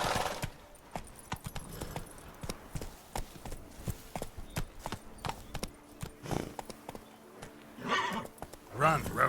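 A horse galloping and neighing in The Witcher 3: Blood and Wine, with rapid clip-clop hoofbeats throughout and loud whinnies near the end, while a voice talks at times over the hooves.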